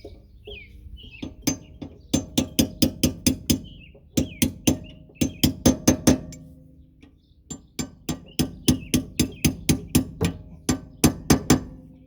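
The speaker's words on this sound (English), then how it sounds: "Tap these back in. My little punch." Sharp metallic taps of a small punch driving brake pad retaining pins back into a front caliper on a 1977 VW Bus, struck in quick clustered bursts of several blows each, close and loud with short pauses between runs.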